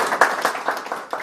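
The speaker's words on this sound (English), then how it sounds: "Applause." An audience at a startup pitch event gives brief applause, a short patter of several claps close together that fades unevenly.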